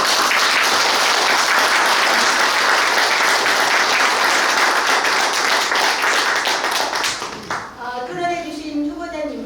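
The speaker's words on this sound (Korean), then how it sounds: "여러분들 큰 박수 부탁드립니다" Audience applause for candidates after an architects' association presidential debate in Chungnam, dense steady clapping for about eight seconds before fading, with a voice starting to speak at the end.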